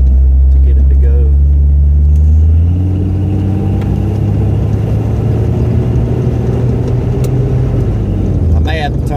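A car with a 60mm throttle body driving on the road at part throttle, a loud steady engine drone and rumble that rises and eases, with a voice talking over it.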